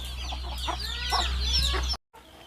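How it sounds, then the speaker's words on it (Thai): Chickens on a farm cluck and call close by while rice is scattered for them to eat, with several short overlapping clucks over a steady low hum before the sound cuts off abruptly. "ก็พอดีเดินมาให้ข้าว ไก่ข้างนอกเนาะก็เลย ก็เลยโรยให้เขากินอีกทีหนึ่ง"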